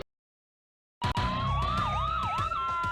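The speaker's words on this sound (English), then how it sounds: "All right, better get him in the ambulance." Ambulance siren from the Emergency Room: Heroic Measures video game bursts in after a second of silence, loud and close, its wailing tone sweeping up and down continuously to the end.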